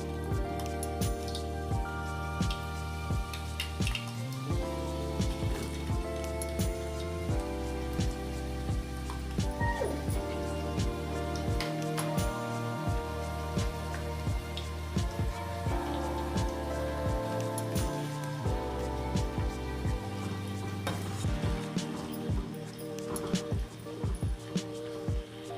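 Potato fries for crispy homemade French fries deep frying in hot oil, a steady dense bubbling sizzle with crackles that continues for the whole stretch over a faint background tone, with no talking.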